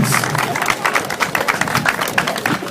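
Warm applause from a crowd at a half-marathon podium ceremony honoring the Hungarian third-place runner, steady rhythmic clapping close by that fills the whole moment with no speech on top.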